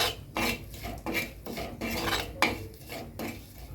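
Chilli powder is stirred in a pan with a metal spoon, giving repeated scraping, clinking strokes at a steady rhythm, close and moderately loud, with no voices.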